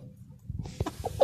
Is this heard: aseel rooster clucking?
yes